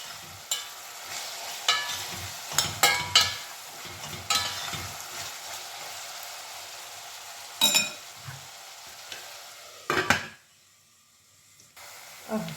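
Ingredients fry in a pan with a soft, steady sizzle, punctuated by repeated scraping clatters of a spoon stirring, then a brief near-silence before the sizzle returns faintly.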